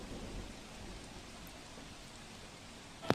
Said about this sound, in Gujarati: સુરત શહેરમાં ધોધમાર વરસાદ વરસી રહ્યો છે।